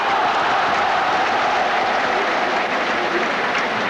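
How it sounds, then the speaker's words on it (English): Applause from a football stadium crowd at a 1982 World Cup qualifier between China and New Zealand, a steady broadband wash of clapping that stays loud and continuous throughout. "It's a round of applause"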